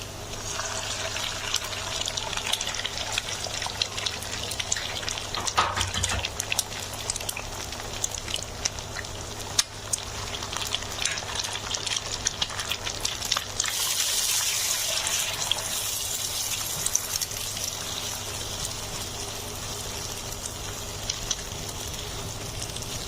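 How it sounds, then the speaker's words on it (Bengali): Eggs frying in a pan, a continuous crackling sizzle with scattered pops and occasional utensil knocks, steady and close throughout. "আমার ডিমগুলো ভাজা হয়ে গেছে"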